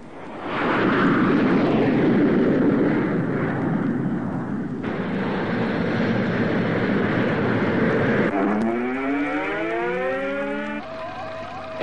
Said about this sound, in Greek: Εχθρικά αεροσκάφους σε χαμηλό υψόμετρο μπαίνουν στον εναέριο χώρο μας με υπερχητική ταχύτητα.